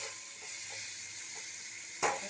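Chopped onion frying in oil in a pan, a soft, even sizzle at low volume, with a single brief clatter of utensil against pan near the end.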